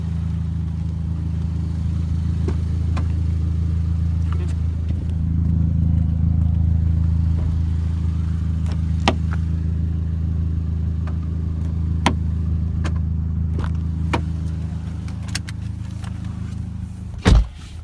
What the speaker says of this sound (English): We're gonna do some in-car audio of the exhaust, and it's fantastic.